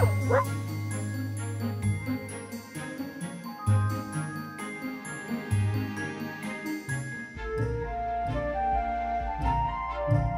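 A dog barks a few times over a bright, jingly children's song that plays throughout with steady tinkling music.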